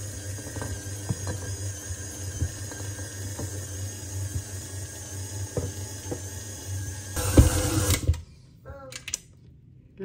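A stand mixer kneads wholemeal bread dough with a dough hook, giving a steady motor whir with rhythmic knocks. It swells louder near the end, then cuts off to near silence.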